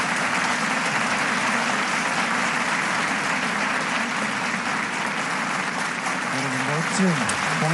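An audience applauds after a Korean samulnori percussion performance at a rally, a dense, steady wash of clapping throughout, with a voice entering faintly near the end.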